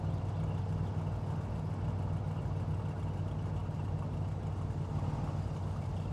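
The Satsuma in the game My Summer Car idles loudly, a steady low engine rumble that runs unbroken and close throughout, with no speech over it.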